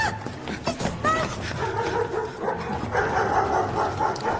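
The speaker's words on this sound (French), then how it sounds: "il y a des chiens qui veulent me bouffer" Several dogs bark and yip loudly and continuously nearby, with whimpering mixed in, during an action scene from a Jackie Chan film with French dubbing.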